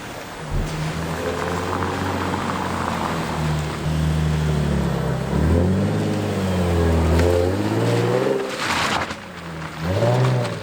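Nissan 350Z fitted with a hydraulic handbrake, driven outside in a parking lot, engine droning and revving loudly throughout with rising and falling pitch sweeps near the end.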